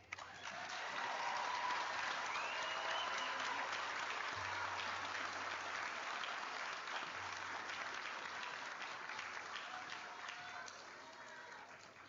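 An audience at a community college commencement ceremony applauds steadily for several seconds, a dense even clapping that slowly tapers off, heard from a distance.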